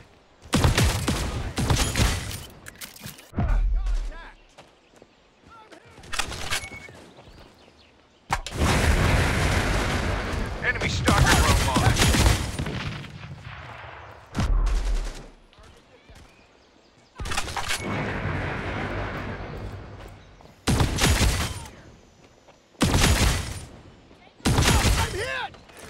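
Gunfire and turret fire in Modern Strike Online deathmatch, loud broadband bursts and sustained volleys separated by brief lulls, with game voice callouts mixed in.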